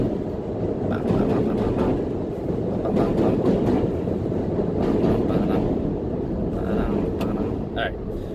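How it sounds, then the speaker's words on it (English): A train rumbles and clatters overhead in a steady, loud roar with faint rhythmic rail clicks, while a voice talks over it. "That train on top of me."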